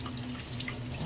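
Water streams steadily into a dog bowl, a soft continuous running pour, close by and fairly quiet, with a brief knock at the end.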